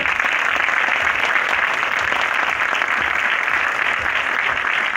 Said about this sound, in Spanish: El aplauso correspondiente.